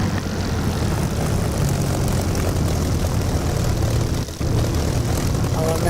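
Spitfire piston engine in the DCS flight simulator drones loud and steady throughout, a dense propeller roar with one brief dip near the end.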